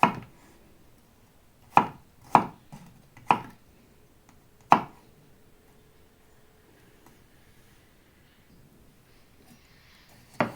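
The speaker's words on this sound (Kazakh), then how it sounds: "Бірінші осылай домалақ етіп тураймыз қиярды" Knife chopping cucumber into rounds on a board, five sharp separate strokes spaced irregularly in the first half, then a quiet pause before one more cut at the end.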